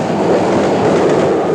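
A boat train running on rails, with steady continuous rumble and clatter of wheels and carriages, loud and close throughout, with no talk.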